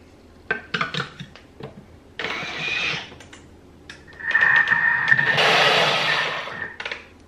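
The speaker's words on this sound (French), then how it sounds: "Donc je vais commencer par le Thermomix." Thermomix TM5 food processor whirring as it mixes crêpe batter at speed 7, a loud steady spinning burst in a kitchen, preceded by clinks and knocks of utensils and dishes.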